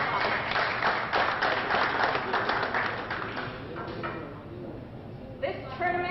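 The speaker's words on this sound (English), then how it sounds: "Give him a great big round of applause." Audience applause at the finale of a tournament championship, dense clapping that thins and fades over several seconds before a few scattered claps and faint sounds near the end.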